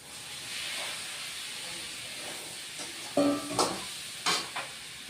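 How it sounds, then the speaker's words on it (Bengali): Fried carrots, beans and green peas tipped into a hot pan for vegetable dal, a steady close hiss of sizzling oil with a few sharper bursts and clinks of utensils toward the end. "গাজর বটবটি মটরশুঁটি মটর যেটা সবুজ মটরটা সব ভেজে রেখে দিয়েছি এটাও এখন দিয়ে দিচ্ছি"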